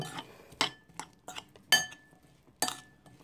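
Vegan salad ingredients being mixed in a bowl with a utensil, producing several distinct clinks and scrapes at uneven intervals, close and fairly crisp, with no talking.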